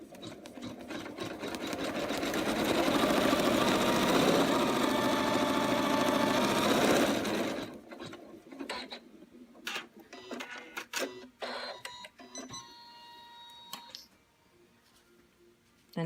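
An embroidery machine stitches the outline inside a bunny's ears, a loud, steady whirring hum of rapid needle strokes for several seconds that stops abruptly, followed by quieter clicks, taps and handling noises.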